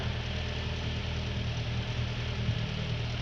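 A car engine idles steadily during an exhaust emission test, with a tester fitted at the muffler end. The low, constant rumble carries a faint knocking vibration, close and unbroken throughout.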